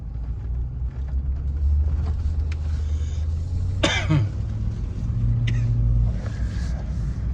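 A Ford Super Duty truck drives along and shifts gears, with a steady low engine rumble and a brief louder rise midway. There is no speech.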